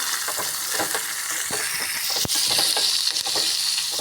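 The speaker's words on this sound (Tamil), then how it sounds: "நல்லா வெங்காயம் வணங்குற அளவுக்கு நல்லா வணக்கிக்கோங்க" Onions sautéing in a pan for a village-style raw mango thokku make a constant close sizzle with soft scraping strokes as they are stirred.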